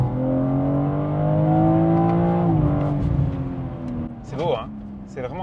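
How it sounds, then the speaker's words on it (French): A BMW M3 Touring xDrive engine revs up and pulls away from a standstill, its pitch climbing steadily and then shifting as it gears up, loud and close, with a voice briefly heard. "J'adore le son de ce moteur et la pêche de ce moteur."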